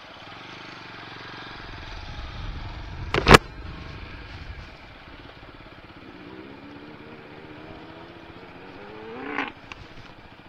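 A motorcycle rides slowly along a muddy dirt trail in the Aravali Hills near Gurgaon. Its engine hums low and steady, broken by a sharp clunk early on and a short rev near the end.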